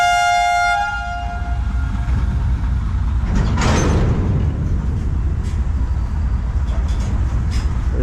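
A freight train hauling an empty fertilizer load departs Eminabad railway station: a loud horn blast opens, then gives way to a continuous heavy rumble and grinding of wagons rolling close by.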